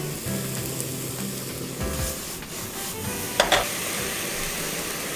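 Garlic and onion with a pinch of salt sizzle in a hot pan while being stirred, a continuous close frying hiss with scraping stir strokes and a couple of sharper clicks.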